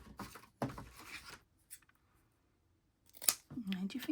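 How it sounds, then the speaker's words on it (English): Scissors snip paper for an Easter junk journal, a few short crisp cuts mixed in with a woman chatting nearby, with a sharper snip near the end. "Scissors please."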